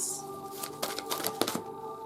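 Soft riffling of a deck of cards being shuffled, a quick run of crisp flutters close by over a faint steady hum.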